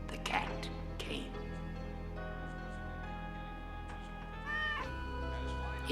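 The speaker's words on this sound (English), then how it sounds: "the cat came" A cat meows twice near the start, close and clear, over a steady low drone of music or ambience, with another drawn-out meow or caterwaul rising near the end.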